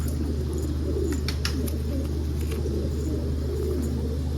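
Pigeons coo softly and repeatedly in a loft, a steady low murmur of overlapping calls over a constant background hum, with a few brief higher chirps.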